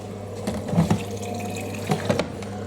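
A Hotpoint WD64 Aquarius washer dryer fills with water on a synthetics cycle, a steady loud hiss of inflowing water with a few soft gurgles and knocks from the drum, and no talking.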